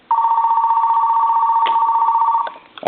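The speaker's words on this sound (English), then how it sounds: "I'm going to let that ring maybe one more time" A two-line telephone under repair, wired to a line analyzer, rings on line 1 with a loud, close, continuous electronic trill that holds for over two seconds and then cuts off abruptly.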